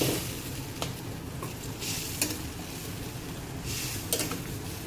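Buttermilk-soaked millet flatbread being tempered in a hot pan, a close, soft sizzle broken by repeated bursts of stirring and scraping, with no speech.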